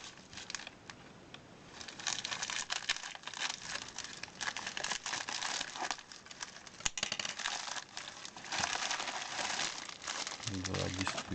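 A delivered parcel holding a car stereo AUX/Bluetooth decoder kit with a remote is torn open, its plastic packaging crinkling and rustling in dense, continuous bursts close by for about eleven seconds, with a brief thud near the end.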